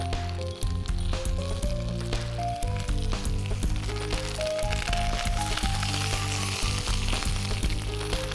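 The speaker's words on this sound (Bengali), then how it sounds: "পাতাটা তেলের উপর রেখে ঢেকে এটাকে ভেজে নেব।" Bean patoori wrapped in banana leaf fries in mustard oil under a lid with a steady crackling sizzle, and music plays over it throughout.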